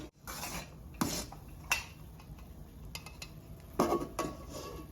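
Coconut jelly mixture with pandan being stirred in a cooking pot, with a utensil scraping and clinking against the metal in a few separate bursts over low background noise.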